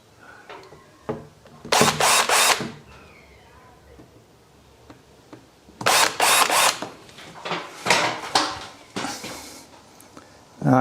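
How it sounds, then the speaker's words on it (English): A power drill bores holes in a Land Rover's metal body for a custom roof rack, in several loud whining bursts of a few seconds each with quiet pauses and small clanks between. "just razz some holes in the body"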